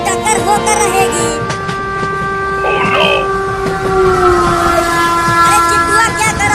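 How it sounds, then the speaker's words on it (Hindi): Two cartoon trains rush toward a collision, sustained horn or whistle tones ringing over rumbling rail noise and clatter, loud and close, with a brief voiced sound partway through. "लगता है अब दोनों ट्रेन की टक्कर होकर रहेगी।"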